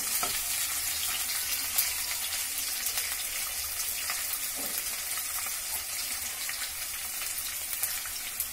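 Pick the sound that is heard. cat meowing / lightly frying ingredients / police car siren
lightly frying ingredients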